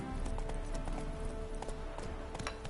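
Galloping horse hooves in a PS4 video game, a quick steady clip-clop rhythm heard up close and fairly quiet, with no talk over it.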